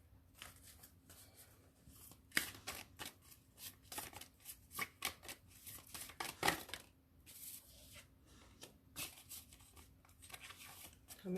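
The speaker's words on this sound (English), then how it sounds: "You should watch the shuffle." Tarot cards are shuffled by hand in a run of quiet, close riffling and slapping bursts with an irregular rhythm, faint overall.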